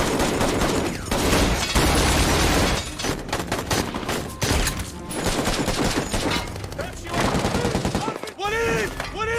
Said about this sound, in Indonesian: Hal itu membuat baku tembak antara mereka terjadi.